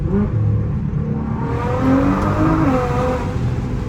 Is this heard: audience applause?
no